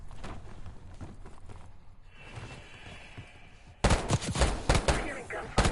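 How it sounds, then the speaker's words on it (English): Gunfire in the video game Call of Duty: Black Ops 6, distant scattered shots under game ambience, then a loud burst of rapid automatic fire and sharp reports close by. "I'm hearing gunfire."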